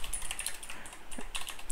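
A command is typed into a terminal on a computer keyboard, heard as a quick, soft run of close key clicks with no talking.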